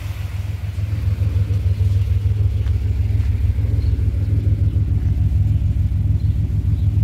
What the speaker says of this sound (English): Car runs so much better now.